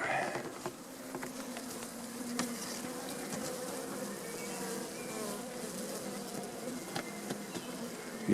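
Honeybees swarm around a hive, a steady, dense buzzing drone close by with individual bees whizzing past, and no speech over it.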